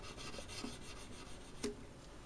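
Faint, close scraping of a sanding stick worked along the sides of guitar frets, soft rasping strokes with a couple of small clicks in a quiet room.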